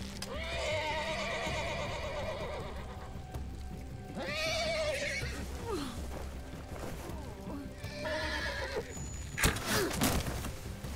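A horse in The Walking Dead: The Final Season video game whinnies several times with rising and falling cries over a steady game soundtrack, then a sharp crash near the end.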